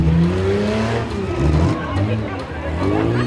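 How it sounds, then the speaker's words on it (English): Demolition derby cars rumble and rev close by, with shifting engine pitches and a brief tire squeal, under crowd babble and an announcer's voice. "It's amazing how these cars are still running."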